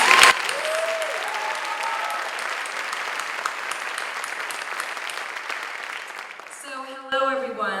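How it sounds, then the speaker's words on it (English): An audience at the Saint Louis Visionary Awards 2018 breaks into steady, sustained applause after a brief opening burst, with a voice briefly audible near the start and someone speaking into a microphone as the clapping fades at the end. "Can we have another round of applause for Kim?"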